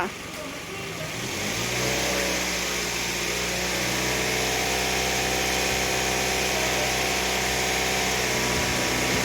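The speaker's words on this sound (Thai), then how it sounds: "เดี๋ยวเราจะลองเร่งเครื่องดูนะคะ เร่งเครื่องค่ะ" A Toyota Vios engine with 261,332 km and a leaking, noisy air-conditioning compressor revs up and holds at a steady, loud drone for several seconds.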